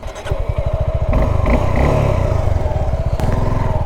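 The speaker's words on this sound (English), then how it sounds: "The exhaust sound is a bit basic." A Suzuki Gixxer SF 250 motorcycle exhaust thrums up close while riding, starting with a pulsing idle-like putter, then rising into a steady, droning engine note with faint rattles, no talking.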